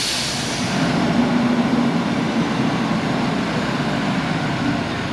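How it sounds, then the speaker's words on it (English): Loud, continuous rumbling of a small tourist road train rolling past close by in Banská Bystrica, a steady engine and wheel drone with no pauses. "here goes the train."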